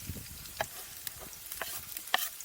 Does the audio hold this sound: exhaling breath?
no